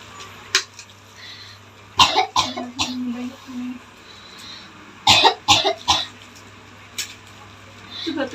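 A patient coughs in several short bursts, with two clusters of harsh, close coughs separated by quieter moments, plus some throat sounds and a few softer single coughs.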